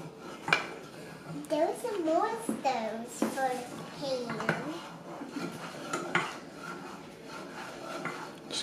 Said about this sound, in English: Keep stirring. It's not a pot, it's a pan.